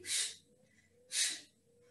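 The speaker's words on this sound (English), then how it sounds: "I exhale every time I crunch." Two sharp, breathy exhales about a second apart, each a short hiss of air pushed out during a crunch in a bodyweight bootcamp workout, fairly close and alone without talk.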